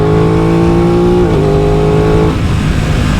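An Aprilia RS660 sport motorcycle engine, loud and close, holds a steady high rev, dips briefly, then settles into a rougher lower drone.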